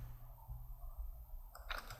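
Someone types a name into a Photoshop text layer on a computer keyboard: a quiet room, then a faint, quick flurry of key clicks near the end.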